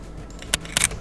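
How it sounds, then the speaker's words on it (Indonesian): Two quick mechanical shutter clicks from a Sony A6000 mirrorless camera, sharp and close, spaced a fraction of a second apart over a quiet background. "suara yang cekreknya itu gue ambil dari Sony A6000"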